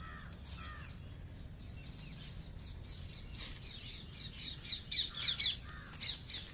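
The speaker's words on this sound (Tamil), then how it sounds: "பாருங்கள், சவுண்டே சூப்பராக இருக்குது. நிறைய பேர்ட்ஸ் வந்து இங்கே வந்து இருக்குது" Crows caw and squawk around a rooftop vegetable garden, scattered calls at first that grow louder and more frequent toward the end, with softer chirps from other birds in the background.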